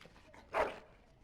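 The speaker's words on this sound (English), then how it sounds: "Bloody dog." A single short dog bark or yip in the Dragon Age Origins video game, quiet and slightly distant against a faint background.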